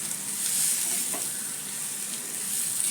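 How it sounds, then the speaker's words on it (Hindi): Potato filling for rava dosa is stirred and lightly pressed in a hot pan, giving a steady close frying sizzle with soft scraping through the stirring, with no one talking over it. "हम आलू को मिक्स कर रहे हैं"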